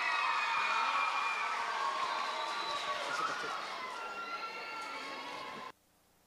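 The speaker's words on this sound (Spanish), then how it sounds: "Fuerte el aplauso para él." Large youth camporee crowd at an evening gathering cheering, whistling and shouting loudly in a sustained roar to welcome a pastor on stage, with dense applause underneath before the noise cuts off abruptly.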